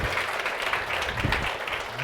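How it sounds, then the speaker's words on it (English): A summit audience gives a round of applause after a healthcare data talk, dense and even clapping from many people throughout. "A big round of applause."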